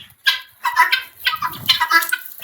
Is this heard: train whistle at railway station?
no